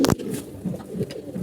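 Pigeons in a loft coo softly in low, rolling murmurs after a brief sharp burst at the start, several birds overlapping at close range with no talk.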